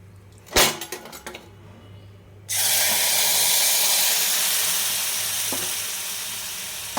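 Tomato chutney drops into a hot pan of mustard seed, fenugreek and turmeric tempering. A few clattering knocks come first, then a loud, sustained sizzle bursts up and slowly eases, close by and with no talking.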